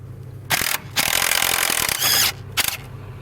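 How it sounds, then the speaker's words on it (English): An electric impact wrench removes the battery hold-down bolt on a Jeep Grand Cherokee, firing in short, loud bursts, with one longer hammering run in the middle and a brief final burst. "I love having an electric impact."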